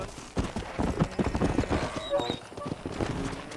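Horse hooves clip-clop at a gallop in Red Dead Redemption, a steady rapid rhythm close up with a brief whinny, while someone shouts commands over the riding.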